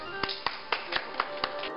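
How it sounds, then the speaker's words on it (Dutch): A few sharp, evenly spaced hand claps, about seven in under two seconds, sound close up in a small room, like sparse applause from a handful of people. "Applaus."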